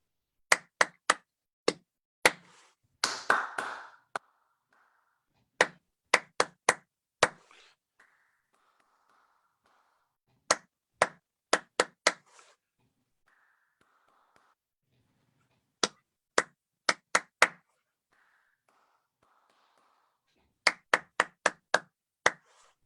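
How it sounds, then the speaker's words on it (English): Hand clapping in short rhythmic patterns, several quick sharp claps per phrase separated by pauses, close and clear in a quiet room, with a few faint murmurs between phrases. "Let me clap a few rhythms for you."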